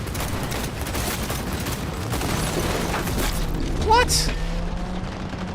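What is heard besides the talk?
gunfire in the video game Cyberpunk 2077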